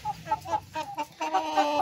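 Chickens with swollen, lumpy faces from fowl pox cluck in short, repeated bursts in a poultry pen, close and fairly loud, with no talking.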